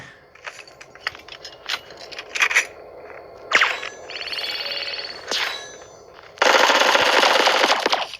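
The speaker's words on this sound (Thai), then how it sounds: "เฮ้ยยิงแรงเลย" Rapid automatic gunfire bursts in the mobile shooter game Bullet Echo, with sharp single shots, metallic dings, and a long dense burst near the end, loud and close, no talking.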